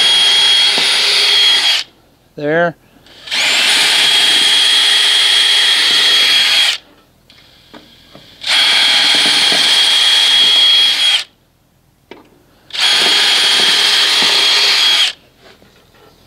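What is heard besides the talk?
power drill drilling holes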